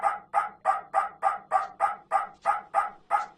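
A dog in a Meta Quest VR video game barks in a steady, rapid series of about eleven evenly spaced, sharp barks, close and loud, with no talking over them.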